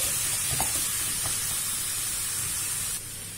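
Ground meat being stirred and broken up in a hot pan for hachis parmentier, a steady close sizzle and hiss with a few faint scraping knocks of the spoon, and no voices.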